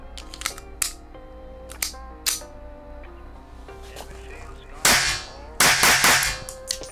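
A Beretta Tomcat .25 ACP pistol fired indoors in a small gun room: a series of sharp, close cracks, some spaced apart and a quicker cluster near the end, with some voice in the background.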